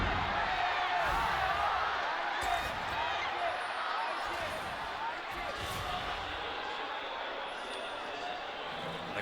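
A large indoor esports arena crowd at a League of Legends LPL finals match roars and chants steadily, a dense wash of voices that stays loud and continuous throughout.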